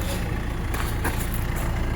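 A vehicle engine idles close by, a continuous loud, dense rumble that holds steady throughout with only slight fluctuations and no talking over it.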